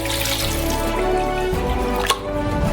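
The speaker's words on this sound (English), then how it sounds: "Therefore, we fill it up with water" Water running from a tap into a saucepan for parboiling potatoes for French fries, a steady close splashing stream with dripping tones, continuous for the whole stretch with a brief sharp knock near the end.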